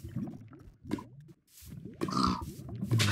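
Pig grunting and oinking in the Minecraft game world, several short snorting grunts in bursts, fairly close and clear with brief pauses between.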